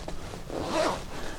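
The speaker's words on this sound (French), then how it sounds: "On voit vraiment à la fermeture éclair de la poche qu'on va assurer l'étanchéité de celle-ci" A zipper is drawn along the waterproof pocket of an Alpinestars motorcycle garment, making a short, close rasping pull that swells in the middle and fades within about a second.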